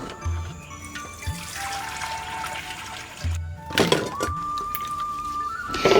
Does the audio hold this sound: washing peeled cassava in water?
yes